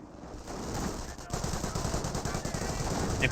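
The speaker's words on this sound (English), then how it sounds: "MP4 is firing away at pretty close to range, but they're simply outnumbered." Submachine gun fire from an MP40 in the World War II strategy game Company of Heroes, a dense rapid rattle of gunfire mixed with other battle shots, steady and fairly loud throughout a close-range firefight.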